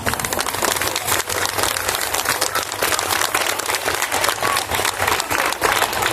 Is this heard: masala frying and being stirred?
no